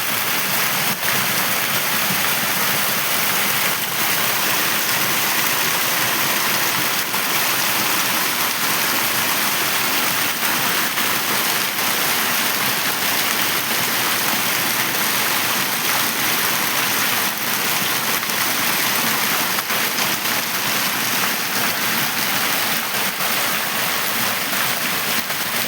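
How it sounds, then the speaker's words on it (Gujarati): Heavy monsoon rain falls steadily and hard, a dense, even hiss that goes on without pause, close and fairly loud, with no voices. "જોઈ રહ્યા છો આવો વરસાદ"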